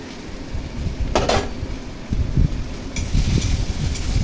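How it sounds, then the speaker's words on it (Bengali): A spoon scraping and knocking against a metal pot while lentil dal with green chili, salt and turmeric is stirred, giving a few distinct clinks and scrapes among softer shuffling movement, close by with no talking. "খুব ভালো করে ডাল নেড়ে দিলাম"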